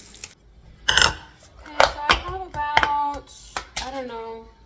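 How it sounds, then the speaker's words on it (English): A lid goes onto a pan of simmering food in a home kitchen, with several sharp metallic clanks and rattles spaced out across the moment, while a voice talks between them. "I'm just going to put the lid on the pan"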